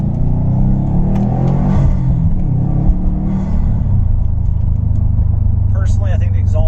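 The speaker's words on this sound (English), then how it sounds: "Personally, I think the exhaust sounds good." A Subaru STI engine with a Cobb exhaust rumbles loudly and steadily, its exhaust droning low and revving, with a voice talking over it for most of the stretch.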